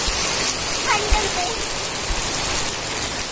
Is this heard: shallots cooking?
no